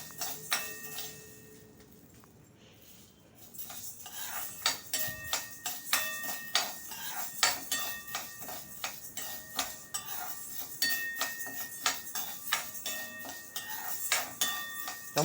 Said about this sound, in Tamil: வானலியில் இந்த பச்சை பயிர் போட்டு நல்லா ஃப்ரை பண்ணணும்